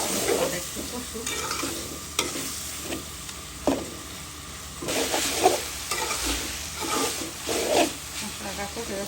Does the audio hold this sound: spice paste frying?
yes